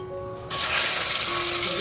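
Fish dropped into hot oil in a pan set off a sudden, loud, steady sizzle after a brief quiet moment, up close.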